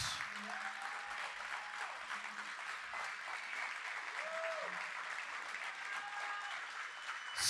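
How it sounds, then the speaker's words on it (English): Insurance agents at a motivational event clap their hands together, a sustained, even wash of applause with faint whistles and cheers rising over it. "Clap your hands if this makes any sense."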